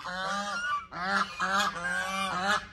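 Ducks on water honk loudly in a rapid series of nasal, goose-like calls, close and clear, several honks in under three seconds.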